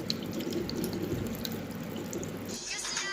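A stream of water running over a Boat smartwatch in a water resistance test, a steady close trickle and splash that tapers to drips near the end.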